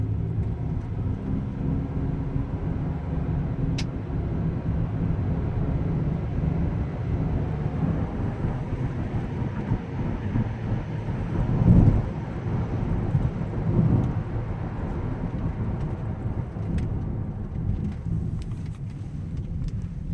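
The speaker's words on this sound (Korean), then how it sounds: "약간 고속 주행 한번 보여드리겠습니다" A first-generation Volvo S80 T6 cruising at high speed, a steady low road and engine rumble with wind noise that swells briefly midway, heard from inside the cabin.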